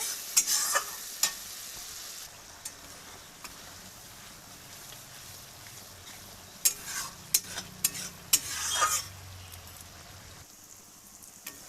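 Onions with chilli powder frying in a pan, a faint, low sizzle with a brief hissing burst at the start and a cluster of sharp scrapes and clicks from stirring near the end.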